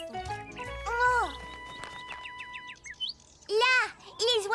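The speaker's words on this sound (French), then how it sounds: "Là, les oiseaux sont revenus." Birds chirp in a cartoon garden: a quick run of short repeated tweets, with brighter calls later, mixed in among animated children's voices and background music.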